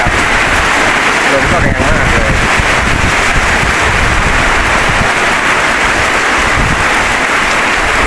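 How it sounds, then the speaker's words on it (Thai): Strong wind roars continuously into the microphone during a windstorm with rain, a dense rushing noise that buffets and rumbles throughout. "ครับลมมาแรงมากเลยนะครับ"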